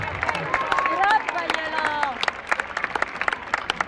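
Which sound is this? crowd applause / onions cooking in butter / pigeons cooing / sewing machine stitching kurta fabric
crowd applause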